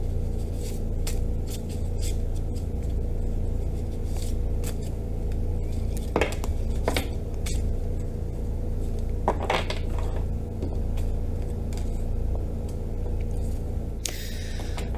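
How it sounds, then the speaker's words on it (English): Tarot cards are shuffled by hand, giving soft papery riffles and light clicking taps scattered across a quiet room, close and moderately loud, with no speech. "So let's do a little bit of shuffling."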